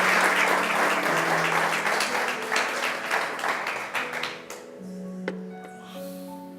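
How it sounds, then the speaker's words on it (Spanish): A church congregation claps loudly together during a Spanish-language worship service, the dense applause running over sustained keyboard-like music before tapering off and fading near the end. "Démosle un aplauso al Señor. Duro, fuerte, fuerte, iglesia."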